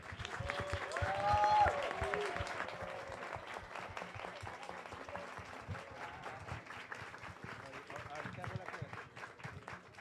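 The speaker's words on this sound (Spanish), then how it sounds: "Yo quiero que le demos un fuerte aplauso a nuestros panelistas." An audience applauds the panelists at the close of a science café talk on dinosaurs in Colombia, a steady wash of clapping lasting the whole stretch, with a voice speaking briefly near the start.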